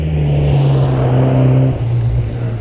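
A Mitsubishi Evo VI Tommi Makinen Edition engine with an atmospheric HKS wastegate and exhaust idles loud and close with a deep, steady exhaust burble, the note dipping briefly before settling back.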